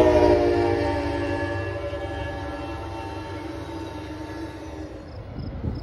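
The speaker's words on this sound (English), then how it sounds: "The third train to come is an Amtrak Empire service." An Amtrak Empire Service passenger train passes through Fairport, New York, sounding a loud, sustained multi-tone horn that gradually fades under the steady rumble and clatter of the train.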